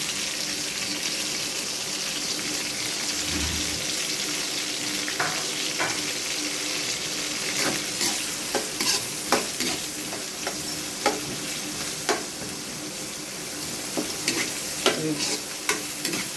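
A tempering of chopped onion, green chili and garlic frying in oil gives a steady sizzle with scattered sharp stirring clicks and knocks that grow more frequent later, with no voices.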